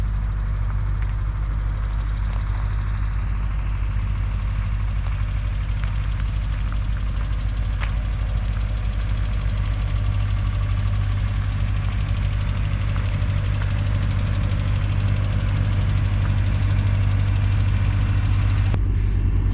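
A Mazda RX-8's rotary engine holds a steady, loud, buzzing drone close by, at a fairly constant pitch rather than sharp rev climbs, with no talking.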